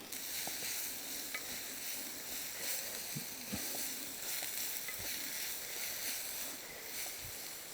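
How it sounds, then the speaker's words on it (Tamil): Jackfruit and onion sauté on a hot stone at an outdoor wild kitchen, a faint steady sizzle with occasional soft scraping and stirring clicks. "இது அப்படியே நல்லா வதங்கிட்டே இருக்கட்டும்."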